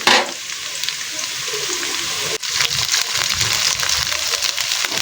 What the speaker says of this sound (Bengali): তেলটি গরম হলে দিয়ে দিয়েছি পেঁয়াজ, কাঁচামরিচ আর দারচিনি